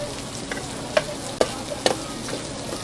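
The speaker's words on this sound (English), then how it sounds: "So just mix that up, get a good mix." Food being stirred and mixed together in a pan at a live outdoor cooking demonstration, with a few sharp utensil scrapes and clicks standing out over a steady low sizzle and crowd background.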